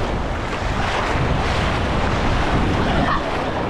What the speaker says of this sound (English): The Great British Seaside.